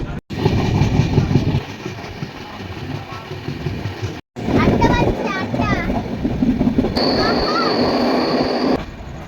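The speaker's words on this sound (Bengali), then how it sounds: "ফাইনালি কোডারমা স্টেশন থেকে আমাদের ট্রেন ছেড়ে দিয়েছে" The Jammu Tawi Express rolls onward after leaving Koderma station, heard from inside as a loud steady rumble with wheel clatter and brief squeals, interrupted by two short dropouts, with voices faintly present.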